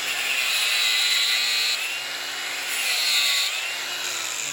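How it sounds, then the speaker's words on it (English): An angle grinder cutting outdoors during a gate installation, a loud, steady high-pitched whine that rises and eases in two long passes, with no talk over it. "He's got a grinder on it."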